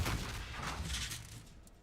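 Gunfire in Call of Duty Modern Warfare during a competitive scrim, heard as a dense burst of game shots and impacts that fades over under two seconds with no talk.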